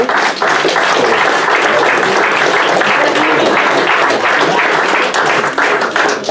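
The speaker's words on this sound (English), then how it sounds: "Please give a hand clap to my panel." Loud, sustained audience applause for a criminal justice breakout panel at a conference, dense continuous clapping filling the room with no break or talk.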